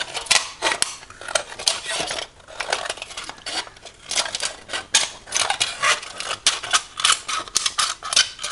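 A tin beer can being cut, giving rapid, close, crisp metallic snips and crinkles in uneven bursts, with brief pauses between runs of cuts.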